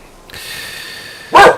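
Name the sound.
dogs barking in the video game Banishers: Ghosts of New Eden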